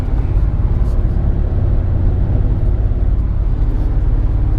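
Nissan Sentra driving on the road, heard from inside the cabin as a loud, steady low rumble of engine and road noise without a break.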